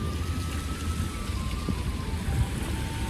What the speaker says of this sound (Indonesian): sekarang udah hujan